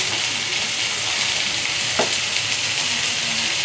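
Crushed garlic with chopped tomato frying in a pan, a continuous close sizzle with occasional faint stirring scrapes and one brief clatter midway.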